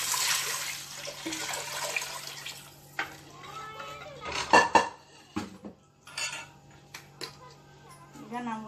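Water is poured into a clay pot of Tamil Nadu style hulikalu rasam, a short splashing gush among clinks of utensils and pot, with quiet kitchen sounds before and after.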